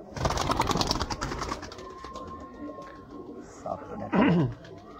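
A pair of banka pigeons coos close by, with a clear burst of low throaty cooing near the end after a stretch of busy background noise.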